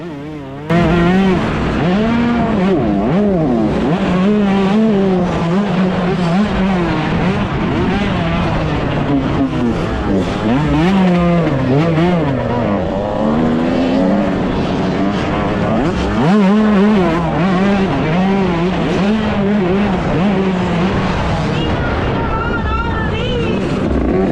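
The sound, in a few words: motocross motorcycle engine racing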